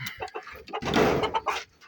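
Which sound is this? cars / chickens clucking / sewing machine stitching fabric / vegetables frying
chickens clucking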